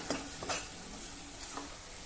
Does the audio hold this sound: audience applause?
no